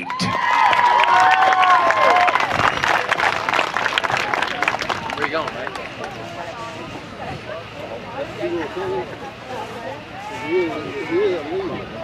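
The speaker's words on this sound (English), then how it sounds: "Everybody give a big round of applause for Jerry" Crowd applause and cheering at an outdoor concert in a ballpark in Beaver Dam, Kentucky, loud and dense at first with whistles and shouts, then thinning into scattered claps and crowd chatter.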